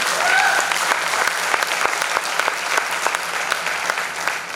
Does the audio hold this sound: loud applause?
yes